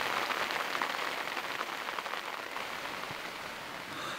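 Steady rain falls on a sailboat at anchor, a dense, even hiss of drops on deck and surfaces that fills the scene without any voices.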